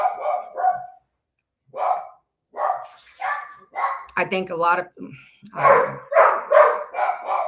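Dogs bark indoors in short bursts between stretches of conversation, with a sharp cluster near the middle and more barking mixed under people talking close by toward the end.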